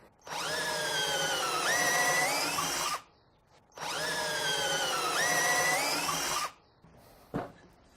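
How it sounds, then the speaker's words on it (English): A power drill whines up in two long bursts of about three seconds each while drilling pocket holes with a pocket hole jig, with a short sharp clack after the second. "just set that up and drill all my pocket holes"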